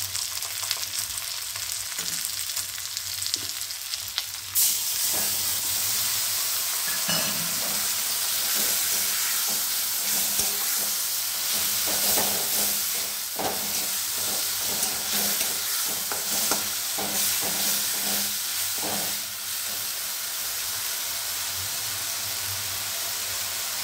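Ground spice paste hits hot oil in a pan for tinda masala curry, bursting into a loud steady sizzle, with intermittent scraping and clacking as it is stirred.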